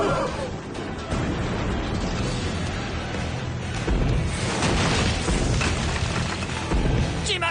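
A dense, roaring burst of booms and crashing rumble fills the clip, like cannon fire going off loudly and continuously with heavy explosive impacts, in the anime Attack on Titan.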